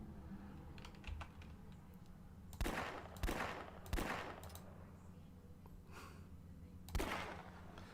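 Video-game gunfire from a 9mm pistol with an extended magazine, heard as several separate loud shots spaced about a second apart over constant soft keyboard clicking and faint background noise.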